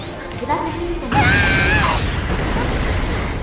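An explosion in the video game Metallic Child erupts as a sudden loud boom with a ringing, whistling tail that lingers for about a second and then settles into a rumbling bed, with faint game sounds before it.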